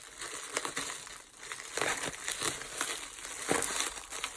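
Scissors or a blade cut through plastic wrapping on a parcel shipped from India, producing close, irregular crinkling and crunching with a few sharper rustling bursts and no talking.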